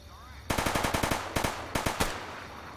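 Raiders fire guns in the Fallout game Tale of Two Wastelands, loud rapid bursts of gunshots in quick rhythmic volleys with brief pauses between bursts, steady ambient background, no talking.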